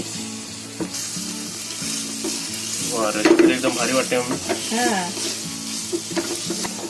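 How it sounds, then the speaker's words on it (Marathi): Paneer sizzles loudly in a pan of gravy while being stirred, with bursts of frying crackle and scraping rising midway, and a person speaks briefly over the cooking. "आता हा पनीर आहे ना या ग्रेव्ही मध्ये आपल्याला टाकायचं आहे."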